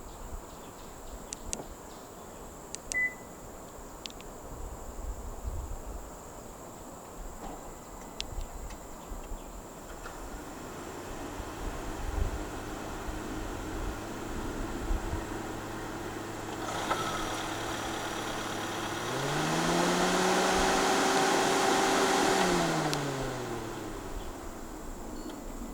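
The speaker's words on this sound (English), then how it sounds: "The RS trim does come standard with a remote engine start system." A 2023 Honda City 1.5 e:HEV RS hybrid started by remote: a faint steady hum, then a louder rising whir near 17 seconds that swells with a tonal note around 20 seconds and fades out.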